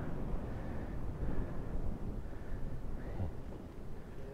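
Wind buffets the microphone on a long-distance cycling stage, a continuous low rumbling roar that swells and fades in gusts, with no clear voices over it.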